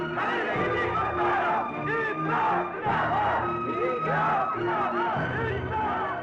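A protesting crowd shouts and chants in loud, rhythmic bursts, many voices overlapping in swelling waves that fill the scene without pause.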